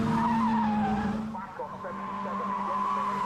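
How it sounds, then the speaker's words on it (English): A Caterham race car spins at Castle Combe circuit, its tyres squealing in sustained, wavering tones against the engine roar in a short, loud burst of skidding. "Just gets on the gas too early. Car spins."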